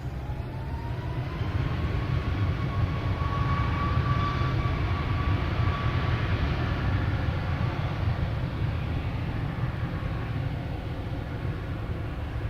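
A distant American Airlines jet at Boston Logan Airport gives a steady broadband roar with a faint rising whine, continuous and fairly far off, without speech.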